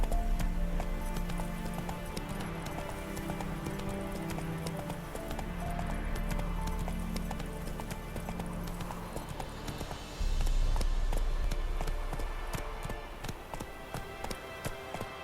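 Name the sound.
horse galloping in The Witcher 3 video game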